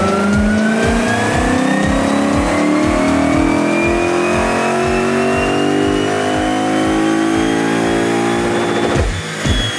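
Lexus IS-F fitted with PPE headers and an X-Force exhaust revs hard on a dyno, a loud, close engine note climbing steadily in pitch for about ten seconds with a rapid pulsing rhythm, then easing off at the end.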